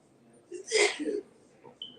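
A single short sneeze bursts out loudly, preceded and followed by faint vocal sounds.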